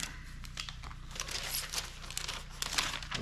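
Cardboard and paper packaging crinkles and rustles close up as a pair of golf pants is unwrapped, bursts of crackling handling that rise and fall with no talking.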